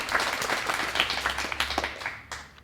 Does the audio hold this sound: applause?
yes